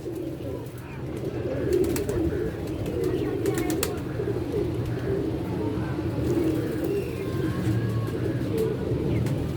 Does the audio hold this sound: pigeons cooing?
yes